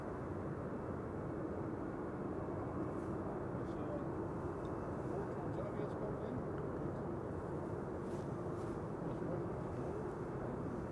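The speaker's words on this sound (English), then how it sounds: "it's Transavia 5132 arriving from Barcelona" A Transavia twin jet arriving at Amsterdam Schiphol from Barcelona on a frosty day: a faint, steady distant engine rumble lasting throughout, with someone talking quietly over it.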